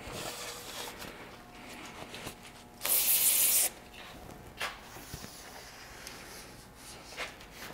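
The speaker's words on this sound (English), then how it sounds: "brake cleaner." Brake cleaner sprays onto Land Cruiser split-case transfer case parts in one short, sharp hiss of under a second, amid quiet workshop clinks and rubbing.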